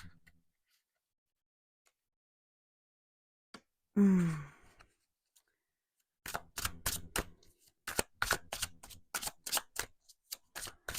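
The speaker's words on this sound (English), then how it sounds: "We're just shuffling it this way and kind of putting cards in the Celtic cross position." A deck of tarot cards is riffled and shuffled in a quiet room, producing a quick run of crisp, close papery clicks in the second half, preceded by a single soft breath.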